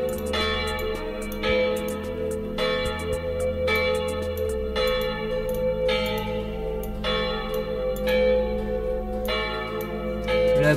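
A bell sound effect strikes again and again at an even pace, roughly once a second, each bright chime ringing on into the next, with no voices.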